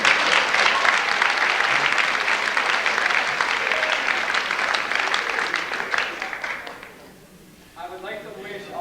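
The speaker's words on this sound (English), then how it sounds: "I think we should all give Mike a big round of applause." Sustained applause from an audience at a school fall sports awards ceremony, loud and dense at first, tapering off toward the end as a voice begins speaking.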